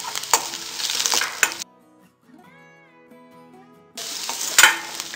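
Crushed garlic and ginger sautéing in a pan for a Kerala prawn curry, with bursts of stirring and sizzling at the start and end framing a quieter stretch of faint tonal sounds in between.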